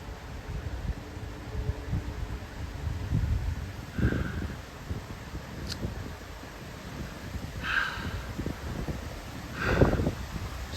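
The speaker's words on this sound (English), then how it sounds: "rain is starting to get a little heavier" Wind gusting before an approaching thunderstorm, with rain beginning to pick up, a steady low rushing roar with rustling and a few brief louder gusts, fairly faint and without talk.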